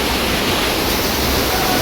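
Water spilling and dripping down rocky mountainsides at Guchhupani waterfall near Dehradun, a steady, dense broadband rush that stays close and even throughout with no talk over it.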